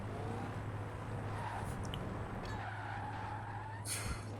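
Mustang drifting around a roundabout in Forza Horizon 4, with a steady engine drone and tyre squeal sustained throughout, rising into a brief burst near the end.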